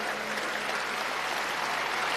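Audience of about 2000 people applauding warmly at a televised public event, dense steady clapping that fills the whole stretch without pause.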